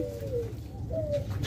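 Diamond doves cooing in an aviary, two soft low coos in quick succession over a constant background hum, close and clear with no talking.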